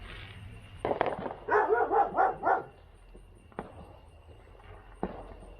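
A dog barks in a quick series of four or five yaps, then a few single sharp pops or barks follow at a distance, in a quiet outdoor setting.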